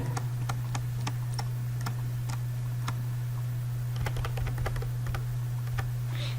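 Keys on a computer keyboard clatter in quick, uneven bursts of clicks while HTML form code is typed, with a steady low electrical hum underneath throughout.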